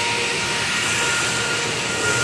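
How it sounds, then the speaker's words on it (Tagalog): Loud, steady machinery roar from a pumping station, a dense broadband drone with a low hum that holds without a break throughout. "napakaingay ng pumping station"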